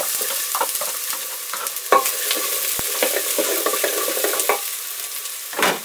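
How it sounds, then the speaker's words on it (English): Chopped onions and carrot tops sizzle steadily in hot oil for a marinara sauce, with repeated clattering stirs of a utensil against the pan throughout, a sharp knock near the middle. "Stir and fry the onions until they're tender."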